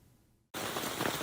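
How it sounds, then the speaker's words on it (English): Steady rain falls in a backyard, a dense broadband hiss that starts abruptly after near silence and holds loud and even. "You're in my backyard. It's raining"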